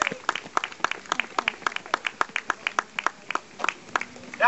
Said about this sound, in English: give them all a round of applause as they finish